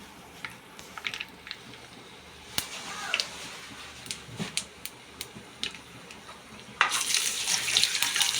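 Tap water runs over curry leaves being washed in a kitchen sink; soft splashes and drips come first, then a stronger stream of running water gushes near the end, with no talk.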